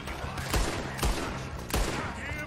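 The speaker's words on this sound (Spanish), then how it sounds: "¿Cuatro disparos?" Four gunshots ring out in Red Dead Redemption 2 story mode during a legendary bear hunt, each a sharp, loud, booming report spaced roughly half a second to a second apart.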